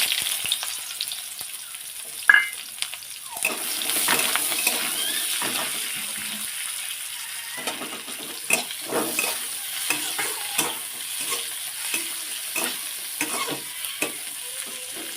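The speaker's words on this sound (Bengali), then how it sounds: "পেঁয়াজ ভেজে নেব।" Onions fry in a pan on a gas stove with a steady bright sizzle, broken by intermittent stirring scrapes and a sharp clack near the start. No voices.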